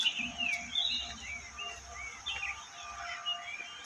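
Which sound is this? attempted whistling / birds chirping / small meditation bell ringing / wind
birds chirping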